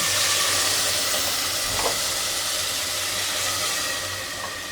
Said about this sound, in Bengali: এখন আমার পেঁয়াজ ভাজা হয়ে গেছে, দিয়ে দিচ্ছি পানি